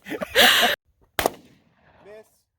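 Two sharp gunshots from a handheld gun fired outdoors, a long loud blast followed by a shorter crack, with brief talk before and a faint voice afterward.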